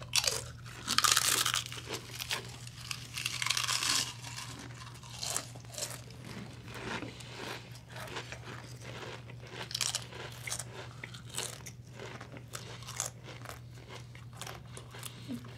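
Spicy Paqui tortilla chips are crunched and chewed up close, with bursts of loud crisp bites, steady munching and crinkling of the bag under a low hum and brief talk.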